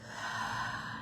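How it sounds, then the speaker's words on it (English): One long, soft breath pushed out through the mouth, close and breathy, a smooth airy exhale lasting about a second with no talk. "In through the nose, out through the mouth."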